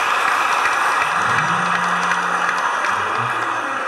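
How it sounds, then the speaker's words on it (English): A congregation at a church mass at Holy Cross Parish, Apo, Abuja, applauds in a dense, continuous clatter of clapping that fills the room, with a low hum underneath. "Please put your hands together for him."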